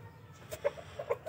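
A hen at her laying spot lets out a few soft, short clucks, close but fairly quiet, with low background noise and no speech.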